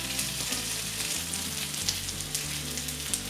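Curry leaves crackle and sizzle in hot oil alongside frying masala potatoes, a dense, steady, close hiss with scattered pops throughout and no voices.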